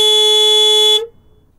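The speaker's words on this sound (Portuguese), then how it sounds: "Deu para ouvir a buzina aí?" A car horn gives one steady, loud honk lasting about a second, then cuts off abruptly into silence.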